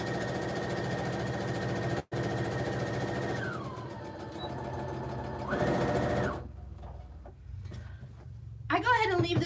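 A sewing machine stitches a reversible tote bag, running in a steady close whir that stops briefly, changes pitch and speed a few times, then falls quiet as a person begins to speak at the end.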